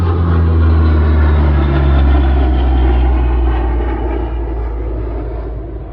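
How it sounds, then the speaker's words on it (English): A jet airliner passes overhead near an airport, a loud, steady low roar that fills the whole clip and slowly fades toward the end, heard over a no-dig organic vegetable garden. "Sorry, not a helicopter, a jet."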